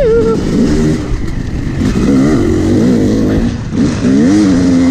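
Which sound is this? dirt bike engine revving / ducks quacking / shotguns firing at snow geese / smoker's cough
dirt bike engine revving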